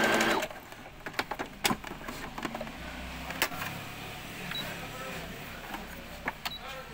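A Brother sewing machine stitching a picot stitch runs steadily at moderate volume, its needle mechanism producing a continuous whirring hum with irregular clicks and taps, while a voice speaks faintly in the background.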